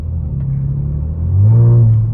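A sports car engine rumbles at idle, then revs up in a short, deep swell, close and fairly loud in an enclosed space.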